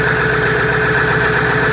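A truck engine idles steadily in a garage, a continuous close rumble with a fixed low throb and even vibration throughout, with no talking.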